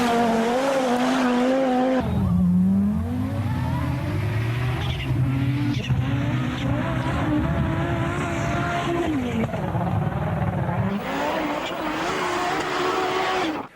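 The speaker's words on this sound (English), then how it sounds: "that 5-cylinder engine, which, if you heard it, especially the rally version, how could you not instantly fall in love with that?" An Audi quattro rally car with a five-cylinder engine roars close and loud, its engine note climbing and dropping through gear changes with tire squeal mixed in over about fourteen seconds.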